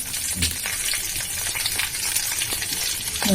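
Boiled potatoes and spices fry in a pan with a steady close sizzle and crackle, with light spoon scrapes now and then.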